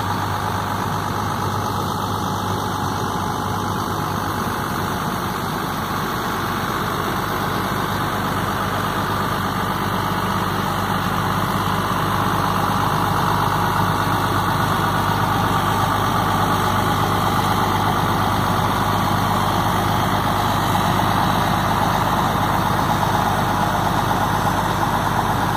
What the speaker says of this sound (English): There's our diesel engine.